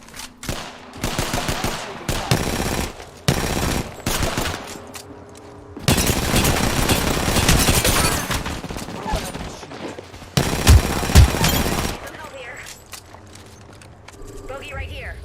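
Video game gunfire crackles in repeated bursts and sustained automatic volleys, loud and close, with mechanical clicks and brief lulls between the strings of shots; a voice speaks intermittently over the shooting.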